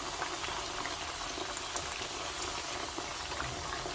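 Chicken pieces for restaurant-style chilli chicken deep-fry in a pan of oil, producing a continuous dense bubbling hiss, even and moderately quiet with no talking.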